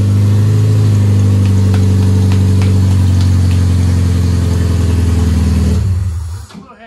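A car engine, restarted after head gasket trouble, runs at a steady loud idle with a deep throbbing rumble for about six seconds, then cuts off abruptly and falls silent.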